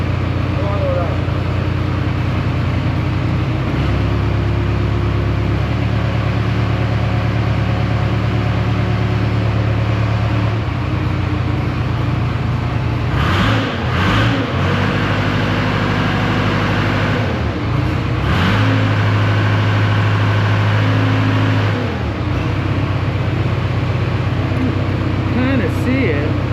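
A Case 580K backhoe engine runs at raised throttle, a loud steady close drone that holds throughout, while a person talks in the middle of the clip.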